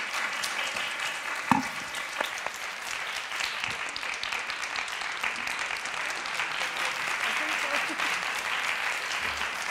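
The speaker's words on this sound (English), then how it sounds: "Can we just give a round of applause for our panelists?" An audience at a symposium applauds the panelists, with sustained, dense clapping from a crowd in a hall that holds steady throughout, with a few louder individual claps near the start.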